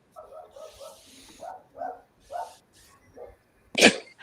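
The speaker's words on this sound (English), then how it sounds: "Don't mind my dog." A dog barks in a series of short, moderately loud yips and woofs indoors, followed by one sharp louder bark or sneeze-like burst near the end.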